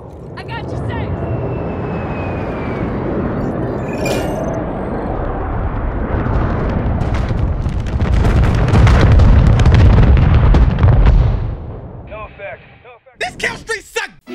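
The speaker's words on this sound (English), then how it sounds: "Inbound for bombing run." Call of Duty MW3 bombing run killstreak: a roaring aircraft pass over heavy rumbling, with a string of deep explosions swelling into a loud sustained barrage, then a few sharp bursts after a brief drop.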